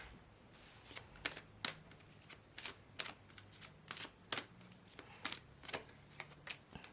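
Tarot cards are shuffled in a quiet room, giving a steady series of crisp riffling snaps and soft slaps at a fairly even pace, faint but close, with no talking.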